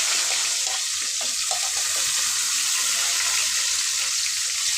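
Shallots frying in hot oil with fennel in a pan, a dense continuous sizzle, close and even throughout with faint stirring beneath.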